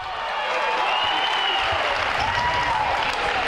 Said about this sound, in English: Crowd definitely getting into it.